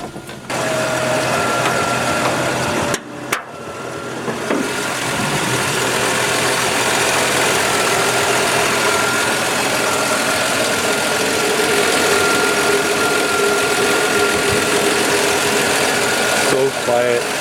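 A Plymouth Valiant engine idles quietly and steadily after a tune-up, with a low continuous hum and only faint ticking. It runs alone for most of the stretch, with a brief dropout near the start.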